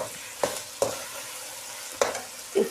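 Small tomatoes hitting hot oil in a pan for pea pulao, giving a low steady sizzle with a few sharp stirring clatters spaced across a short stretch, close by, with no talking.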